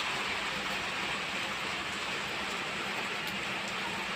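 Heavy rain pours steadily as a dense, even hiss with scattered drop patter, constant and loud throughout with no voices.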